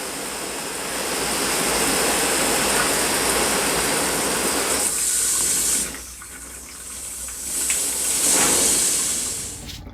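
Water rushes hard into an RV camper toilet being filled for the first time after a clog, a steady close hissing flow that briefly eases and then surges again.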